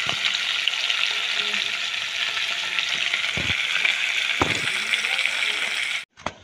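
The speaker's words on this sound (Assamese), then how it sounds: "এতিয়া সৰু মাছকেইটা ভাজি আছোঁ" Small fish fry in hot oil with a steady, close bubbling sizzle, broken by a couple of brief clatters from turning them, before the sound cuts off abruptly near the end.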